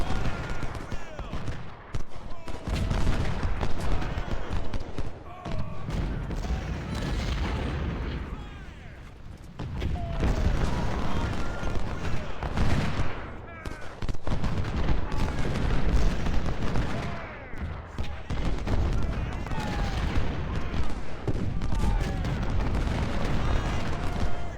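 Cannon and musket fire echo through a video game battle at a siege of Fort Washington, with booms and crackling shots rolling in dense waves, while a voice talks over the din.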